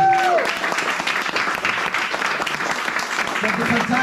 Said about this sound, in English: give them all a fucking round of applause.